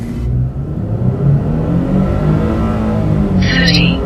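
A naturally aspirated V6 truck engine revs in a steady, loud low rumble that holds throughout, with a brief higher whine near the end and speech under it.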